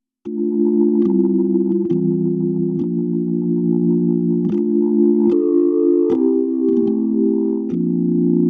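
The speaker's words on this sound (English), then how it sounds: "Here it is with the click on high." Nord Stage 4 playing a Hammond B3 organ patch with key click set high: sustained organ chords changing every second or so, each note onset marked by a sharp percussive click, loud and steady throughout.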